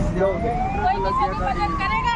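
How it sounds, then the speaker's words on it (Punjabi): A rising and falling fire engine siren wails nearby as it arrives at a road accident scene, over crowd noise and traffic, with voices talking over it. "ਉਹ ਆ ਗਈ ਆ ਗਈ ਫਾਇਰ ਬ੍ਰਿਗੇਡ"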